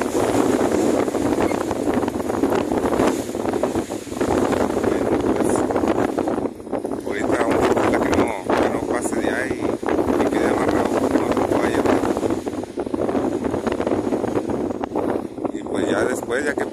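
Strong wind gusts roar steadily and loud across the whole stretch, buffeting the microphone outdoors while workers tie down a poorly welded structure so it won't be carried off.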